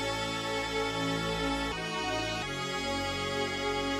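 A string one-shot sample played dry in FL Studio with no effects, a sustained, rich harmonic string tone that holds steady with a slight shift partway through, loud and alone.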